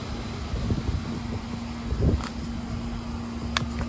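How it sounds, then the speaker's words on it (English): An outdoor air conditioner runs in a backyard garden, giving a steady low hum under soft wind noise, with a few brief rustles and bumps close by. "Sorry for that air conditioner noise"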